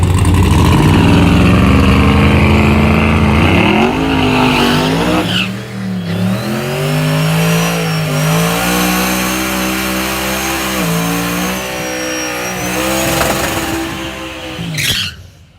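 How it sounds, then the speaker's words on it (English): A race car does a burnout at a rough woods race track, its engine revving hard and loud, then holding a steady drone as the tires spin, with a sharp burst near the end. "he was loving that burnout"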